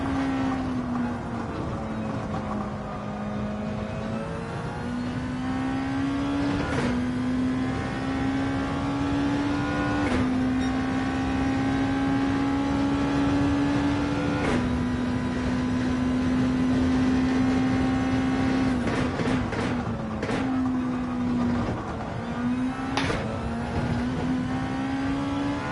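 Race car engine in Gran Turismo 7, a loud, sustained high-revving drone that climbs and dips as gears shift, with several sharp upshift breaks over a long continuous run and no talk.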